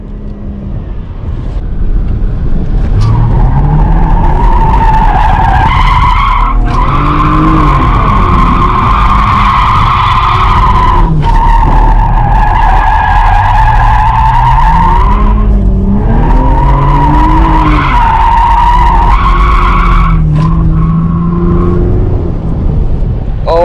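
An automatic V6 Chevrolet Camaro drifting at a race track, its tires squealing loudly and almost continuously in long wavering screeches over a constant engine roar, close and loud throughout.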